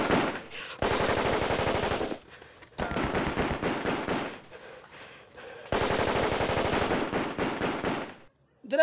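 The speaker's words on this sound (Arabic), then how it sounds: "اسمع صوت رصاص" Gunfire inside a village crackles in long, rapid automatic bursts, separated by short pauses and heard close and loud, with faint voices in the background.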